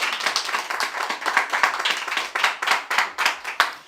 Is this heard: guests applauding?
yes